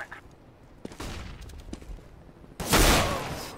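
Gunfire in the video game CS:GO: a few scattered sharp shots early, then a louder burst of firing near the end over a faint background.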